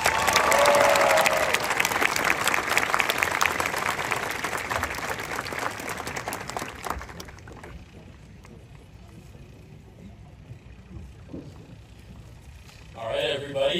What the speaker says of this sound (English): with a round of applause, if you please help me welcome to the microphone President of the class of